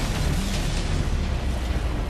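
A rocket launcher blast in the video game Saints Row 4 gives a loud, dense roaring explosion that rumbles without letup across the whole moment, with no voices.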